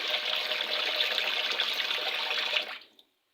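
Water pours steadily into a cooking pot of rice set to soak for cooked white rice, a continuous rushing splash that runs for about two and a half seconds and then cuts off.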